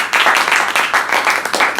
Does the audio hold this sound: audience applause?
yes